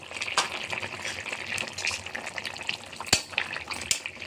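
Pieces of fried rohu fish go into a boiling fish curry with bottle gourd stems, giving a steady bubbling sizzle near the pan, broken by a couple of sharp clinks and splashes.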